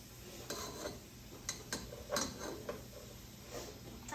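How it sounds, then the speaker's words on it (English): Onions stirred around in a pot as butter melts for tomato soup, heard as faint, soft scraping and light clinks from the spoon at an irregular pace, close by and quiet. "So as Declan is stirring these onions around"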